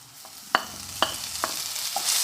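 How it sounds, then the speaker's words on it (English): Tomato tips into onions frying in a pan for a Goan sole fish curry, giving a few sharp clacks and scrapes of a spoon over a soft, low sizzle. "So now the onion is ready. I will add tomato"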